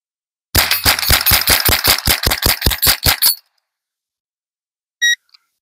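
A Savage 64 .22LR semi-automatic rifle fires about fifteen rapid, evenly spaced sharp cracks over roughly three seconds, close and loud, then stops; a short faint electronic beep follows after a pause.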